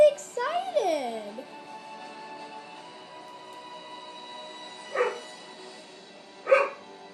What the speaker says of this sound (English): It's okay, those are just the dogs.